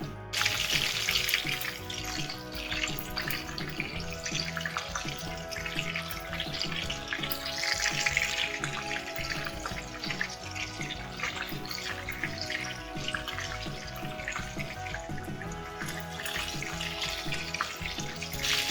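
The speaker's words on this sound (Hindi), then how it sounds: "स्टिक्स को आपने शैलो फ्राई करना है मीडियम फ्लेम पे" Chicken shashlik sticks shallow fry in oil over a medium flame, giving a steady, dense sizzle and crackle that carries on without a break.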